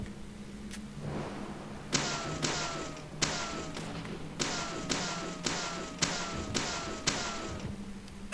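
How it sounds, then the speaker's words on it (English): Wooden boxes are smashed in the video game Deadly Premonition, giving about nine sharp, punchy thuds at uneven intervals over a low background hum. "Destroying boxes is still very slow, but it's a lot quicker than in the original version."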